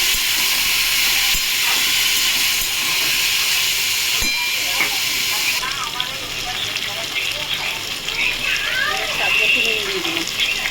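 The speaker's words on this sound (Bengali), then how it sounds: "টমেটোর সাথে ভেজে নেবো ভালো করে" Diced potatoes frying with tomatoes in a pan for a vegetarian pea and potato curry, a loud continuous sizzling hiss that eases after a few seconds, with stirring clinks and someone talking over it.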